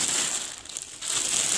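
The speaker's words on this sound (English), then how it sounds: "And we have this plastic bag here." A plastic bag packed inside the box of a Grizzly 1023 table saw is handled and crinkled up close, a loud, continuous rustling with a short dip in the middle.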